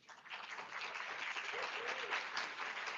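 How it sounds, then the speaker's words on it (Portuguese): A crowd claps steadily in a continuous round of applause, with no voices over it. "Pode vir, por favor, uma salva de palmas."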